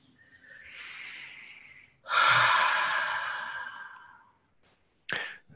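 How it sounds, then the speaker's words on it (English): A person draws a deep breath in and lets it out in a long, audible exhale, followed by a short sharp sniff or breath at the end; no speech. "Nice deep breath."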